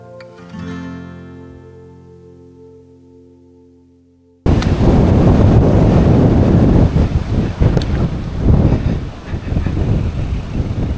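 Strong wind buffets the microphone during a bike ride in the Lincolnshire Wolds, a loud, roaring, gusting rush that suddenly takes over after a quieter opening and keeps surging.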